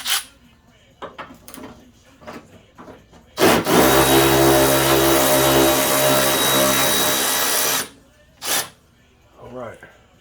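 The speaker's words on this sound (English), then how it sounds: "We're gonna remove this 10mm for the headlight." A 10mm headlight bolt comes off a 2006 Scion xB as a power tool whirs loudly and steadily for about four seconds, preceded and followed by lighter clanks and handling noises, with a voice speaking nearby.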